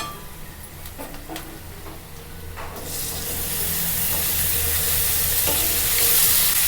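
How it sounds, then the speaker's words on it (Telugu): Peanuts drop into hot oil tempering, crackling and sizzling loudly as the hiss swells and spreads, with scraping strokes of stirring in the first seconds and no talking. "ఇప్పుడు తాలింపు అయింది పల్లీలు వేసుకుందాం"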